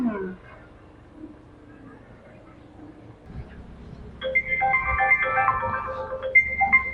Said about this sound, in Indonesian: Bios telepon heula si Ana.